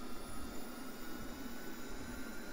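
Ka-50 helicopter engines spinning up during a cold start in DCS World, a steady dense turbine roar with a high whine, loud and unbroken throughout.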